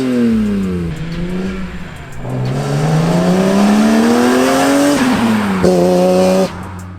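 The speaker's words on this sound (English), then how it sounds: "I get it, rasp is a characteristic of the E46 M3." A BMW E46 M3 fitted with aftermarket headers climbs through the revs and drops back several times, its loud, raspy exhaust note rising and falling up close with no talking.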